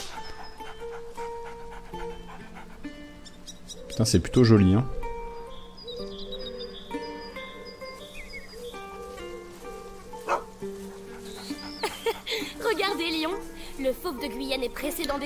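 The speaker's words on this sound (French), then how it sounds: "On peut caresser un toutou" A dog in the video game A Plague Tale: Innocence barks and whimpers as it is petted, short yelps rising over game music and ambience, with someone talking over the scene.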